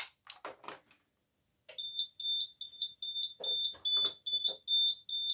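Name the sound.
Nugelec NUG 31173 alarm sounder going off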